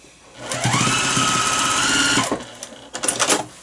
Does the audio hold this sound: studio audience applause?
no